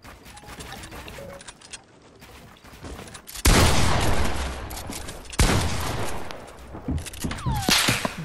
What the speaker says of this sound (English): I spammed the P90 and no bullet hit.